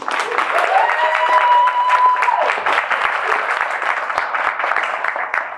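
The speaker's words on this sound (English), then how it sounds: "A round of applause" A conference audience applauds with steady clapping that swells and then gradually thins, while a voice speaks over the start.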